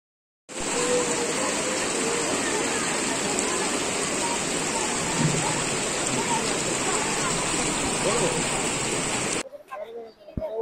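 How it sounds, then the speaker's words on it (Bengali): Water from a hill waterfall at Rocky Island in the Dooars rushes past in a loud, steady roar close by. The constant wash holds for several seconds, then cuts off abruptly near the end. "ঝর্ণা থেকে কিন্তু জলটা এখানে বয়ে আসছে, আর ফ্লোটা কিন্তু বেশ ভালোই আছে, কারণ অনেকটা ভালো জোরে আওয়াজও আসছে"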